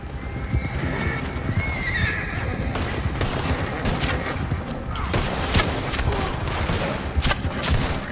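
A horse in Red Dead Redemption 2 whinnies loudly, then its hooves pound steadily while bursts of distant gunfire crackle amid in-game action.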